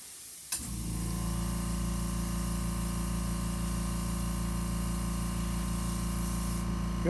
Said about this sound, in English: So all we do is basically backwash the airbrush just a little